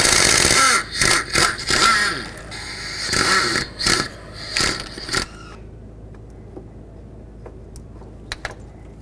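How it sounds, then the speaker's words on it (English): Ratchet work loosening the two 10mm bolts on the timing chain tensioner of a 1997–2003 Ford F-150 5.4L, a loud, rapid clicking in uneven bursts for about five seconds, then near quiet with a few faint clicks. "I'm gonna loosen up the 2 bolts for it"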